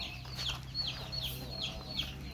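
Chickens and a rooster on a rural Thai farm make a series of short, bright clucking calls in a steady rhythm, close by, over a constant low hum and background noise.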